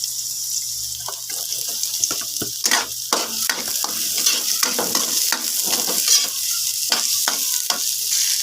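Garlic and onion frying in a pan, a steady low sizzle broken by frequent stirring scrapes and clatters of a spoon, close and fairly loud, with no one talking.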